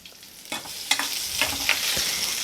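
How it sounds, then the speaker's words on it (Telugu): Mustard seeds, cumin, dried red chilies and sliced onions sizzle in hot oil for a tempering, with steady frying hiss and sharp spitting pops, up close and with no talk. "ఈ తాలింపులో ఆవాలు, జీలకర్ర, ఎండుమిరపకాయలు, సపరేట్గా తాలింపు కోసం కోసుకున్న ఉల్లిపాయలు"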